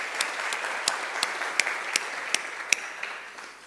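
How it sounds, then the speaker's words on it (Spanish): A seated audience at an education and social development congress in Buenos Aires claps for an arriving guest speaker. The applause is steady and fairly faint, with a few sharper individual claps standing out. "Daniel, por favor, lo recibimos con un aplauso."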